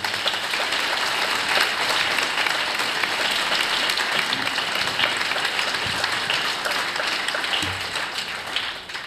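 Sustained, dense applause from an audience at a presentation of the book "Cara Giulia" by Gino Cecchettin, steady and enveloping throughout, with no speech over it.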